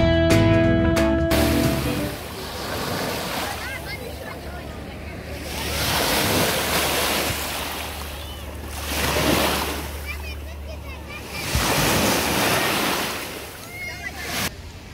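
Sea waves wash ashore a few metres from a summer beach, rising and falling in repeated broad swells with wind noise over the microphone, loud and close throughout.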